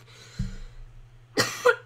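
A person coughs close to the microphone in a quiet room, one short cough followed by a second harsher burst about a second later.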